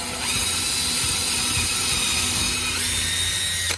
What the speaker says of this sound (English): Try to drill straight down. And I can feel it. I can feel it go through the wood.